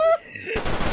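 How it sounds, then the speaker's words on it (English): Gunfire in the video game Perfect Heist 2: a sharp loud burst cuts in after a brief tone, followed by dense rapid shots filling the rest of the moment. "Who is shooting me?"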